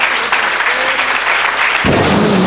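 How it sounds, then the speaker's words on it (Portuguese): Church congregation applauding Jesus at a Portuguese- and Spanish-language service: dense, continuous clapping that suddenly swells louder and fuller partway through, with a faint musical tone beneath. "Dê uma salva de palmas a Jesus. Aplausos. Aplauda."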